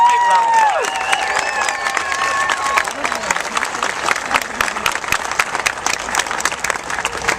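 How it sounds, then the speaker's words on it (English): Crowd at a supermarket grand opening applauding and cheering after a youth saxophone ensemble plays, with lively clapping, a few whoops and whistles early on, and scattered voices mixed into the sustained applause. "Let's give them a big round of applause."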